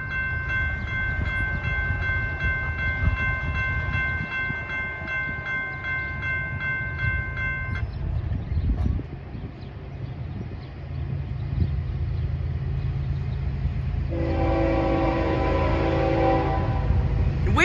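A train rumbles past close by at a street crossing in Chesterton, Indiana, while its horn sounds a long sustained chord, fades, then blasts again near the end over the steady roar of rolling cars.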